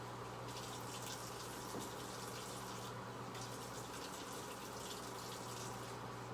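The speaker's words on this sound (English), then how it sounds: "Half a cup of hot water. Pouring that in." Half a cup of hot water poured during a live cooking demo gives a steady, faint liquid stream with a slight break partway through, over a low background hum.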